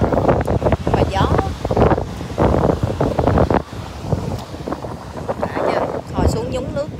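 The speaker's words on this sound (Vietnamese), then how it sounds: "Và gió." Wind buffets the microphone at Natural Bridge State Beach in Santa Cruz, loud gusty rumbling with surf in the background, while people talk over it.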